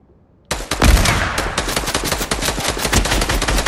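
Rapid video game gunfire erupts abruptly after a brief silence and continues as dense, loud bursts of automatic shots close to the player.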